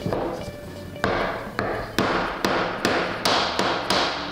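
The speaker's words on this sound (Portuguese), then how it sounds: "E bato até ficar retinho." A wooden plug is tapped flush into a screw hole, likely with a hammer or mallet, giving about nine sharp, close knocks. They come at a steady, quickening rhythm with no talk.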